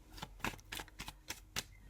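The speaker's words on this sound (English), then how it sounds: "I'm going to shuffle." Tarot cards being shuffled by hand, a run of six crisp riffling bursts in a steady rhythm, close up and alone.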